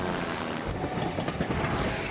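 A runaway burning train with no driver in the Fireman Sam cartoon, a dense rumbling, rattling rush of wheels and carriages that stays loud and steady for about two seconds, with no one talking.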